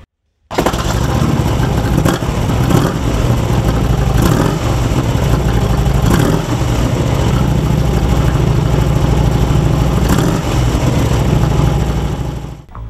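A 2008 Harley-Davidson Street Glide (FLHX) V-twin engine starts and idles loudly and close for the whole stretch, with a deep, uneven throb and a few blips of the throttle.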